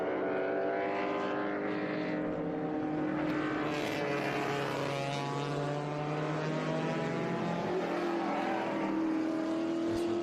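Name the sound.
race cars driving around turn 1 at VIR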